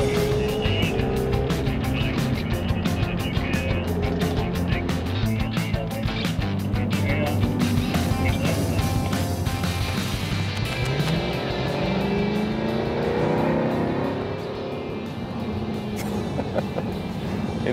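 A 2015 Jaguar F-TYPE R Coupé is driven hard on a racetrack, its engine roaring loud and close with rising and falling revs through gear changes for the whole stretch.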